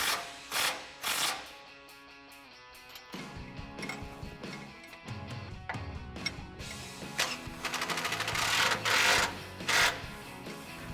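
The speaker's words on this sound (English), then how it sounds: "I'm going to use an 18mm ratcheting wrench" An 18mm ratcheting wrench tightens bolts on a heavy-duty front bumper being installed on a 2019-2022 RAM 1500 truck, giving rapid clicking ratchet bursts in uneven spurts with metallic clinks, close and alone.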